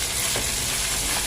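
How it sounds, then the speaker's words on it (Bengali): Fish and fish roe frying in a pan in a home kitchen, a dense, steady sizzle that fills the whole moment, close and loud with no talking over it. "এখানে মাছ ভাজছি, মাছের ডিম"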